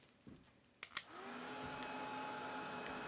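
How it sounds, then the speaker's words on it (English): A small heat drying tool switches on after a few soft clicks and blows a steady, fairly quiet whir while drying green watercolor paint on paper. "I have to dry this out again too. So let me dry the green."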